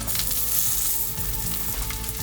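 Green chillies sizzle as they fry in a hot pan, a steady, close crackling hiss that runs unbroken with no voices.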